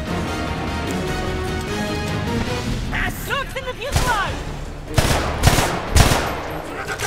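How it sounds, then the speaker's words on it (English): Gunfire in the video game Homefront, with dense overlapping shots, heavy crashes and booms in a chaotic battle mix, bursts growing louder toward the end while someone talks over it. "Machine gun, second floor window."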